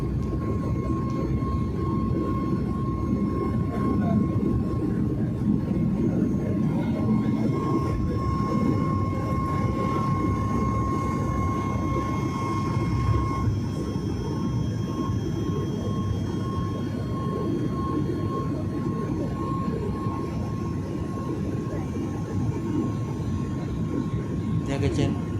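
A steady loud roar fills a passenger airplane cabin as the aircraft takes off from the runway and climbs, with a constant engine drone, a faint tonal whine and voices talking over it.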